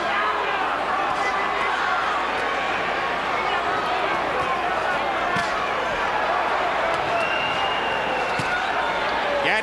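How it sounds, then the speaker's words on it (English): A boxing arena crowd roars throughout the Micky Ward vs Arturo Gatti fight, a dense, steady wall of cheering with sharp bursts rising over it and a commentator talking on top. "Crowd gets back into it."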